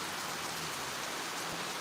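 Rain pours steadily up in the Jamaican hills: a dense, continuous hiss of drops hitting surfaces, close and even throughout, with no talking.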